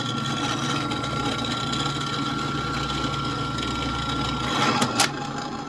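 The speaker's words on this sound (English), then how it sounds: "I'm using a 1/4 inch Forstner bit." A steady drill motor whirs continuously as a 1/4 inch Forstner bit bores into wood, with a brief louder grinding burst near the end.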